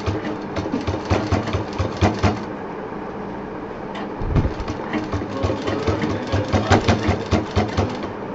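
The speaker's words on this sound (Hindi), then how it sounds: "बस उसके किनारे किनारे इसको हमें सिलते जाना है" A sewing machine stitches along the edges of rounded denim pieces for a handmade door mat, at tension setting 5, running in bursts of rapid mechanical chatter with brief pauses and handling knocks between runs.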